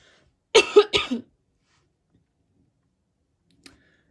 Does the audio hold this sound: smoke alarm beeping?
no